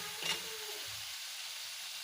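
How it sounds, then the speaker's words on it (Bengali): Cumin and potatoes frying in oil in a pan, a soft steady sizzle with a brief clink near the start, close and fairly quiet. "আর জিরা দিয়ে আমি ভাজি দিই"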